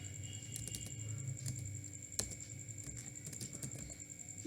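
Keys clack on a computer keyboard as a shortcut is typed, several quick separate taps with a sharper click in the middle, quiet and close with a faint tone running underneath.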